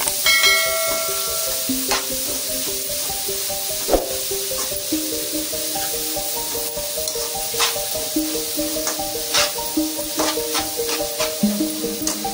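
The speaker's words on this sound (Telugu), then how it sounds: "ఇది ఆయిల్లో వేసుకొని పచ్చి వాసన పోయేదాకా వేపుకోవాలి. ఈ విధంగా కలుపుకుంటా వేపాలి." Grated carrot frying in hot oil in a pan, a steady close sizzle with a spoon stirring and scraping through it, clinking against the metal at irregular moments.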